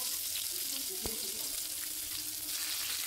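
Onion and green chili frying in hot oil, a continuous dense hiss of sizzling with one brief sharp knock, close and steady without speech.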